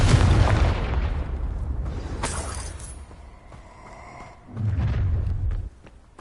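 A Confringo fire spell in the video game Hogwarts Legacy erupts in a loud, close explosion with a deep boom and crackling tail, then a second heavy blast rumbles a few seconds later.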